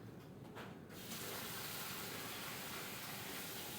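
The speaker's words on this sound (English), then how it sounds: "if you need to go rinse your hands with water, go ahead" Running tap water splashes over hands being rinsed at a sink, a soft steady gush that starts after a brief quieter moment and continues evenly, close and fairly faint.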